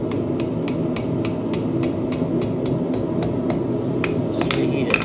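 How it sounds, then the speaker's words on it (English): Hammer striking hot steel on an anvil while forging a hook, a steady rapid series of sharp metallic blows, about three per second, close and moderately loud with no talk. "kind of hammering toward yourself."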